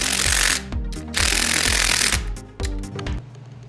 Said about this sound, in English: Or you can hammer them all down